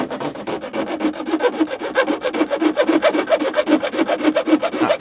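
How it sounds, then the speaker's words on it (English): A bare hacksaw blade saws through plastic dashboard trim in a Fiat Ducato motorhome, a close, loud rasp of rapid back-and-forth strokes repeating in a fast, even rhythm throughout. "I'm using just a hacksaw blade."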